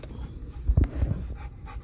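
A dog sitting inside a car going through an automatic car wash pants and gives a couple of soft whimpers, brief and close, over a low steady background of washing noise.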